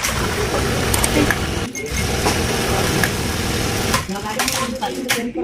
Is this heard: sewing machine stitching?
yes